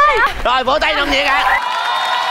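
A game-show audience cheering, whooping and shouting loudly and continuously, with crowd voices rising and falling throughout and some clapping blended in.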